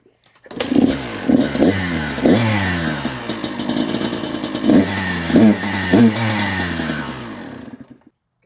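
An MC250 four-stroke dirt bike fires up and runs close by, its engine rising and falling through several revs over a steady mid-pitched idle before cutting off, with no talk.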